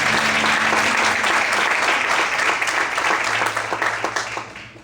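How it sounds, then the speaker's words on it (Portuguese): A church congregation applauds during a worship service, thick sustained clapping that holds strong and then fades out over the final second. "Quantos podem aplaudir o Senhor com alegria?"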